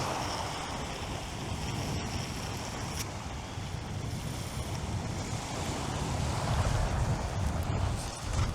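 Strong wind buffets the microphone in a steady, roaring rush while a Tip Tornado Graphex Super Match rod is cast, with gusts swelling toward the end and no voices.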